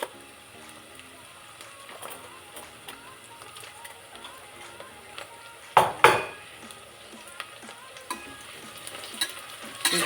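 Cloves and marathi moggu spices roasting in a hot pan for chicken biryani, a soft sizzle with occasional stirring clinks and scrapes of a utensil against the pan, while a person talks nearby.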